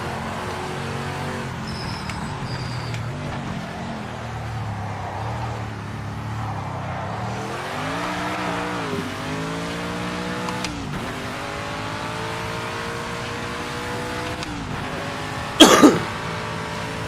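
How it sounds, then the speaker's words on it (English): Camaro race car in a racing video game at Tyre Motorsport Park, its engine droning and then climbing through rising revs before a brief loud burst near the end, heard without talk. "This is the Camaro. Driving around Tyre Motorsport Park."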